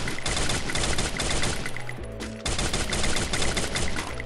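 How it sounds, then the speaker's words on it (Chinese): Rapid automatic gunfire in the Free Fire mobile game shooting down an enemy's gel wall, loud continuous bursts of shots with a brief pause midway before firing resumes, no talk. "我会选择先把他凝胶打坏"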